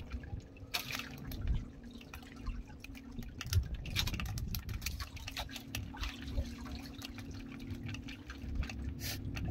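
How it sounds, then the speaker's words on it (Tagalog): Rain patters and drips steadily during a fishing trip, with scattered close drops and a low rumbling background running throughout. "Yan ang ulan"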